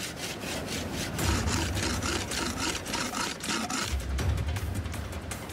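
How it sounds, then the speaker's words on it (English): A snapped-off metal blade being sharpened on a rock outdoors, a close, gritty scraping in quick repeated back-and-forth strokes, steady and rhythmic for the whole stretch. "this side, that I've just snapped off, I'm going to sharpen on a rock."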